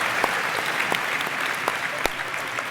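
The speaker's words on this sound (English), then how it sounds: "Big round of applause for Chelsea." An audience claps loudly and steadily after a pitch presentation at an event, a dense round of applause with a few sharper individual claps standing out, and no talking over it.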